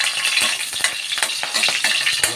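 Garlic sautés in cooking oil, a loud, close sizzle with sharp crackles and spatters while a utensil stirs and clicks against the pan.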